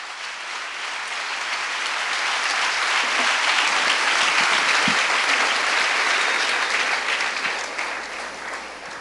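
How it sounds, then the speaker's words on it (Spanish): A church congregation applauding, a dense sustained burst of many hands clapping that swells and holds steady for several seconds before easing slightly, loud and fairly close. "Dele otro aplauso al Señor."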